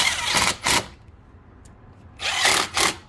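An impact wrench tightens a bolt on a Honda Civic or CR-V V6 steering rack bellows job, firing in two loud bursts of rapid hammering separated by a brief quiet pause.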